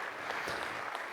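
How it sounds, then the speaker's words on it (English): Brief burst of audience applause at a forest-conservation fundraising gala, a dense, even wash of clapping from a crowd, fairly soft and lasting about a second. "Keep your applause going, everybody."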